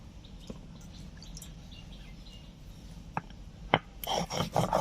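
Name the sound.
grinding poppy seeds and whole garam masala spices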